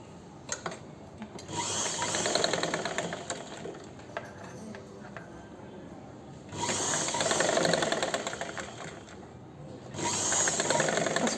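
An electric sewing machine stitches a blouse shape belt in two or three steady running bursts, fairly close and continuous, with brief quieter pauses between them and no talk over the stitching.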